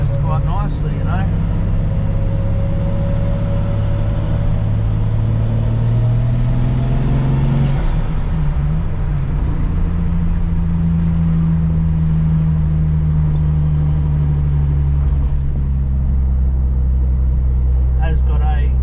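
Turbocharged Centura car with a 3-inch exhaust from the turbo and an internal wastegate, driving uphill: a loud, steady engine drone and road rumble close by throughout, with someone talking over it.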